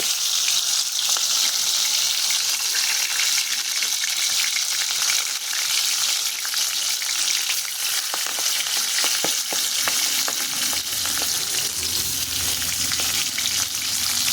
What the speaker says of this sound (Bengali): এখন তেলটা গরম হয়ে গেছে, এর মধ্যে আমি এক এক করে দিয়ে দেবো।